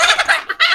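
Chickens on a desi poultry farm, loud and close: a short burst of several clucking calls while being fed scattered rice.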